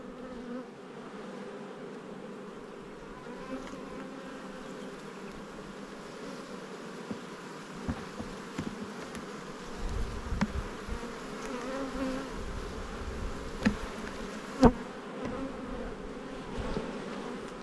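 Bees in an opened spring beehive colony, a very large one bringing in nectar, make a continuous low buzz, with individual bees zipping close by in brief louder passes.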